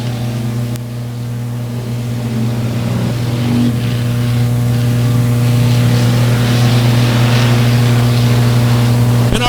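Race cars circle Buffalo Creek Speedway during a heat race, a steady loud engine drone holding throughout with a slight rise in intensity, heard at a distance with no talk over it.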